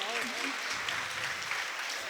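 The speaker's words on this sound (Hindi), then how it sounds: "एक जोरदार ताली इन बच्चों के सम्मान में बजाओ।" A crowd at a closing ceremony of a religious education camp claps in honour of children, a short burst of dense applause with a voice briefly audible at the start.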